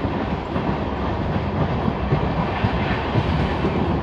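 An onboard roar of the Lalkuan–Howrah train running through Prasadpur halt without stopping, a steady loud rumble with rhythmic clickety-clack of wheels over rail joints and no talk.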